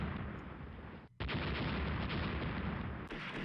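Naval guns firing in the warship battle game Rule The Waves, a dense roaring barrage that drops out briefly, then booms on loud and continuous with no talking.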